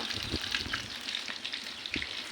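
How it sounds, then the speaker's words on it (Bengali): Soft, crackling sizzle of pangas fish frying in hot oil, with small pops and occasional light stirring, close but fairly quiet. "পেঁয়াজ দিয়ে মাছ ভাজবো, পাঙ্গাস মাছ ভাজছি"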